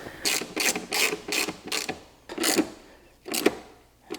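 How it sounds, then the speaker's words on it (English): A ratchet tightens bolts on the air filter box of an FD Mazda RX-7, heard as a run of seven or eight close, crisp clicking bursts in an uneven rhythm, each roughly a third of a second long. "we're going to finish tying down these bolts"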